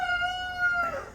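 A rooster crows once at a chicken coop beside an orchard and garden, a loud, close, drawn-out call with a strained, wavering end, heard alone without any talk.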